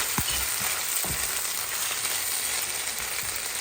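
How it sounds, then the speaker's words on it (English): Onions, shrimp and capsicum frying in a pan, a steady close sizzle with a few soft scrapes of stirring near the start. "Just keep on stirring, incorporating in everything."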